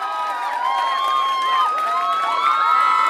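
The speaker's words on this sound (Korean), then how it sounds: "여러분들 큰 박수와 격려를 좀 부탁드리겠습니다" Crowd cheering and shouting at an outdoor salsa dance show by Artom and The Dancer on Haeundae Beach, a dense, continuous roar of many voices with excited whoops rising over it for the whole stretch.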